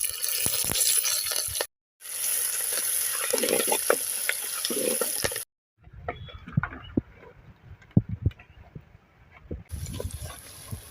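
Shallots, fenugreek seeds and curry leaves sizzle in hot oil for a village-style fish curry, with bursts of crackling frying and stirring broken by short silent gaps.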